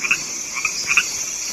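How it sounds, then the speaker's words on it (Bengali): Frogs croak at a monsoon-filled village pond at dusk, ringed by a few large trees, forming a steady, fairly close chorus of repeated calls that pulse every fraction of a second over a constant high insect-like drone. "অন্ধকার নামার আগেই ব্যাঙের দল ডাকাডাকির কাজ শুরু করে দিয়েছে"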